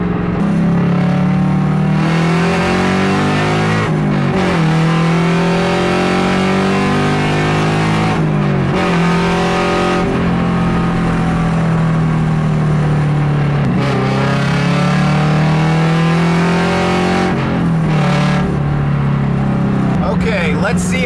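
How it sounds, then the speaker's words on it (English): Nissan S14 exhaust under a quick pull, a loud raspy engine drone that rises in pitch with each rev and drops sharply between gear changes, several pulls in a row, with some talk over it. "give you guys a quick pull just so you can hear how crappy the exhaust sounds"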